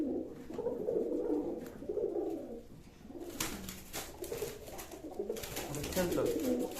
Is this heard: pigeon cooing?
yes